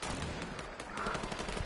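Video game gunfire, rapid bursts of automatic shots crackling continuously at close range, dense and loud throughout the short stretch with no talking.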